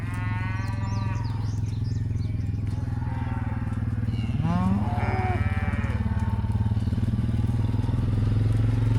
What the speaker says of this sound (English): You didn't tell me you were moving cows right through here.